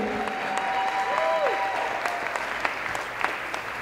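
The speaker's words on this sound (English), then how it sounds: "Let's give them a round of applause." An audience at a school district urban forum applauds steadily, a continuous mass of clapping with a voice and a brief whistle-like tone briefly audible over it early on.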